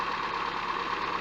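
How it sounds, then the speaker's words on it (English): A Classic Mini with single-point injection idling after about ten minutes of running, a steady, even mid-range engine hum held at constant level throughout with no pops or bangs. "it's idling nice, no strange smells, pops or bangs"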